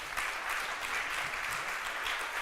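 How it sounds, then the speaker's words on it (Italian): An audience at an Italian talent event claps together in a steady, moderately faint round of applause with no voices over it. "Io farei un applauso a Tarcisio Bellò."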